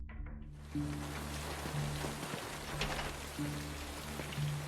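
Steady rain pours down in a dense hiss, with a low droning tone underneath throughout.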